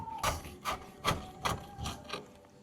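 Rusty screws being worked loose from the rear number plate of a Mazda Bongo van, a series of about six short rasping, grinding bursts in an uneven rhythm, close and fairly quiet.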